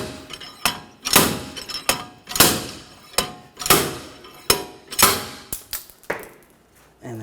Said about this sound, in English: if just tapping it with a hammer doesn't take it off, you can use a slide hammer